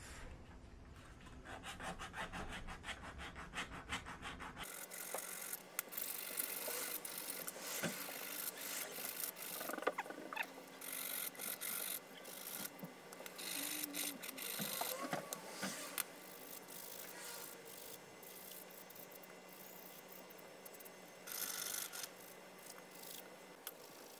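The tip of a nail file on a cheap seven-function multi-tool being filed to a point, heard as steady close rasping strokes that run continuously for the whole stretch, fairly quiet and with no speech.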